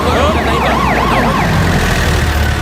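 A loud ambulance siren wails in rising and falling sweeps, continuous and close, over steady traffic rumble.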